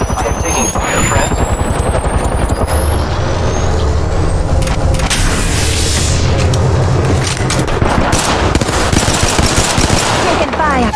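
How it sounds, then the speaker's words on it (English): Rapid, loud video game gunfire with machine-gun bursts and heavy booms fills the whole stretch of a hectic shooter match, layered over a constant low rumble, with voices faintly mixed in. "I am taking fire, friend."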